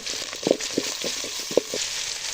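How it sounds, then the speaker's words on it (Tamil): Onion, curry leaves and crushed green chili frying in sesame oil in a pan for country chicken rasam, giving a steady close sizzle with a few sharp spoon-against-pan knocks from stirring, and no voices. "திரும்பவும் அதே பாத்திரத்தில் நம்ம கொஞ்சம் எண்ணெயை ஊற்றி வெங்காயம் திரும்பவும் போட்டுக்கிறோம்"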